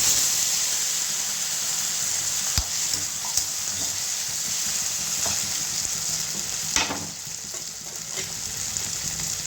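Tomatoes frying in oil with dried red chilies give off a steady close sizzling hiss, broken by a few sharp pops and crackles, with no one talking.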